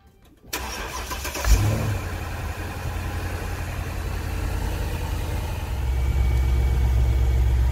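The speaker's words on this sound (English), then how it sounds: "And now I'm going to start the car." A Mercedes ML-Class SUV, mid-repair on its rear air suspension bag, cranks briefly and fires up, then settles into a steady, moderately loud idle that grows a bit heavier toward the end.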